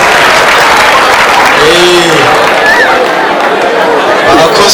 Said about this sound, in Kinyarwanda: tuguhe amashyi cyane.